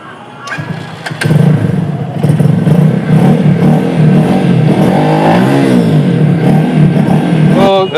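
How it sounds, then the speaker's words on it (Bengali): A GSR Movistar motorcycle, fitted with an aftermarket exhaust, is started and then revved several times, its loud, close engine note climbing and falling over a steady idle. "দেখতেই পেলেন এই বাইকের ইঞ্জিন সাউন্ড কিন্তু খুবই জোস"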